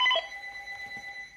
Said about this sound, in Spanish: voy a contestar un ratito al teléfono